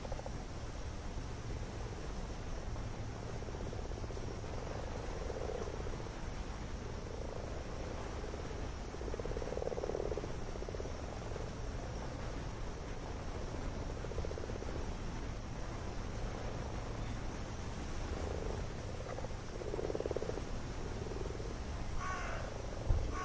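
Frogs croak in a steady, overlapping chorus over a constant low background hum, with no voices.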